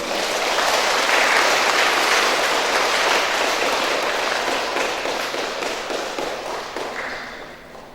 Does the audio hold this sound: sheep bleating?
no